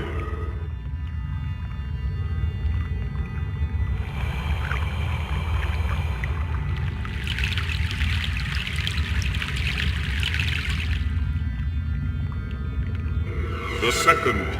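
Boat crossing a river in the game Broken Sword: The Sleeping Dragon, a constant low rumble of water and motion with trickling and splashing layers rising midway and a short sharp sound near the end, voices faintly present.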